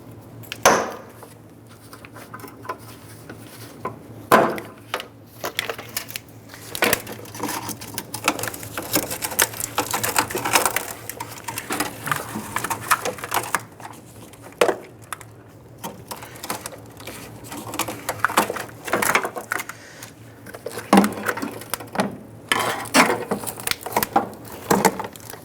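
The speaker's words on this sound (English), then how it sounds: "Go ahead and use your trim tool, get on in there. You want to go ahead and gently pry up on those there and pop these out." A trim tool prises plastic wire-harness retainers off a 1997–2006 Jeep Wrangler front fender, giving scattered close clicks, pops and scraping taps that come at irregular intervals in a quiet garage.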